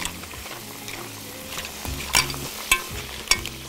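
Shrimp sizzle and fry in a pot as a spoon stirs them, a steady close hiss broken by several sharp clinks of utensil against metal.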